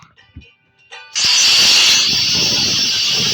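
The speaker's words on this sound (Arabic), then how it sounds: "معرفش بجد ده اسمه ايه بس اكنه بخاخ" A spray can sends chocolate onto a pastry with a loud, steady hiss. It starts abruptly after a few faint clicks and keeps going without a break.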